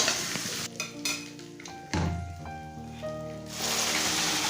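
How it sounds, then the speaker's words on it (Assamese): Spices, colocasia and fenugreek greens fry in a pan for a vegetarian thali, with a steady sizzle and a few scrapes from a stirring utensil. Clear tonal ringing and a hum from other sounds mix in, close by. "এতিয়া মই লৰাই দি আছোঁ। মছলাখিনি মোৰ ধুনীয়াকৈ ফ্ৰাই হৈ গৈছে"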